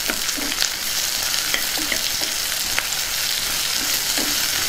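Green chillies for ivy gourd pickle stirred in a hot pan, a loud continuous hiss of frying broken by irregular spoon scrapes and light taps.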